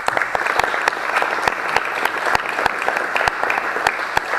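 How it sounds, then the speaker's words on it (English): Audience applause at a software conference keynote, dense steady clapping from a crowd with a few sharper individual claps standing out, continuing evenly throughout. "We can give you a round of applause,"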